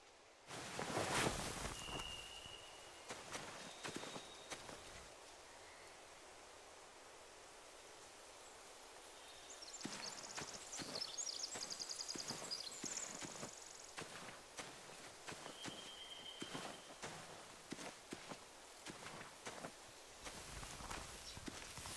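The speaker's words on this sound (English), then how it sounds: "They have horses." Horses in The Walking Dead video game shift and clop with irregular hoof thuds and rustling, faint and scattered over a low noisy ambience, busier in the second half.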